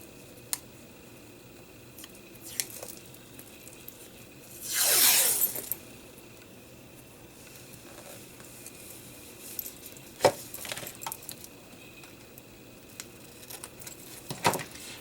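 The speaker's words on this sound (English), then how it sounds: "let's add some washi to this end, this tape edge" Thick washi tape applied to a journal page: a brief tearing, peeling rasp stands out mid-clip, then scattered light taps and rustles of handling paper in a quiet room with no talk.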